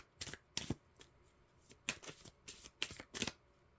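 Fairy oracle cards being shuffled by hand in several quick riffling bursts, each a crisp papery rustle, separated by short quiet gaps, close and fairly soft.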